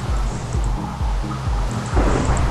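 Thunder during a lightning storm in modded Minecraft survival, a loud continuous low rumble with rolling surges that swell near the end.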